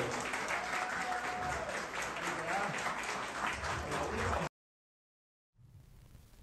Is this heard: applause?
yes